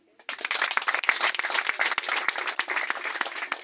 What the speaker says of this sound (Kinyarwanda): mubyihere n'amashyi pe